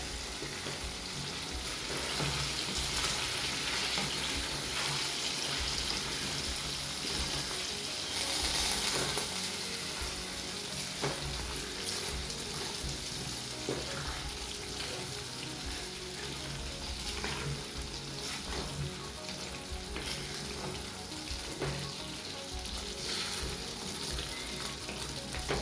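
Chicken curry being mixed in a hot pan gives a continuous close sizzle with soft stirring scrapes, plus a faint watery running sound in the background; no one speaks.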